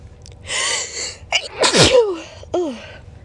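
A single loud, close sneeze triggered by a Q-tip, with a sharp gasping intake and a burst of noise, followed by short breathy vocal sighs.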